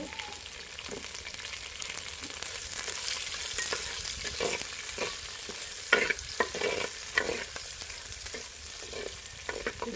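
Crushed shallots fry in hot coconut oil with a continuous crackling sizzle, close up, punctuated by repeated scraping stir strokes of a spoon against the pan.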